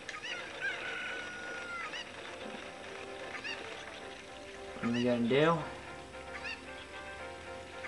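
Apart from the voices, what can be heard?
chicken (cucco) squawking in Zelda Ocarina of Time video game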